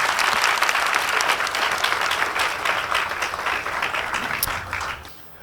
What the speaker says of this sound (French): Qu'on applaudisse encore une fois.